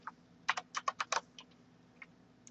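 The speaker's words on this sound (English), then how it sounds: "you can just start typing" Typing on a computer keyboard: a quick burst of about seven close, crisp key clicks, then a few scattered softer taps in a quiet room.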